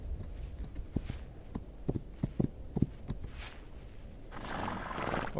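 Horse hooves clip-clop in the video game This Land is my Land, a run of close, uneven knocking steps, followed by a rising wash of ambient game noise.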